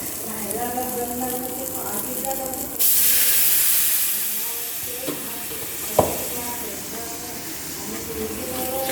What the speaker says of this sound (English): I'm going to put some water in it.